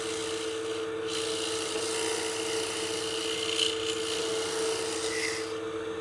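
A round nose scraper cuts the curved bottom of a wooden artifact pot spinning on a lathe, giving a steady, continuous rasping scrape with a constant motor hum beneath, close and even for the whole stretch.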